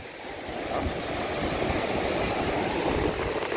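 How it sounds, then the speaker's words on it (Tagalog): Steady roar of ocean surf during a strong typhoon, broadband rushing noise, waves washing continuously close by, some wind buffeting mixed in. "Grabe, alon."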